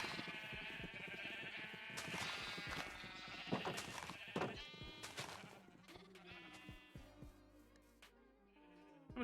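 Several Minecraft sheep bleating in a video game farm while being bred, repeated wavering baa calls close by, overlapping one another, with faint game sounds underneath and no clear talk.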